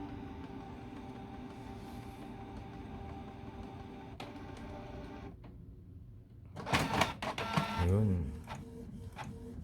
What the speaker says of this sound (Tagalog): Naglo-loading pa yung printer.